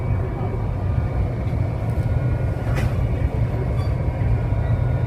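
Steady low rumble of a Mugunghwa train idling at close range at Gohan Station, a continuous heavy drone with faint squeaks and clanks above it.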